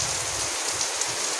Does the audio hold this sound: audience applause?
no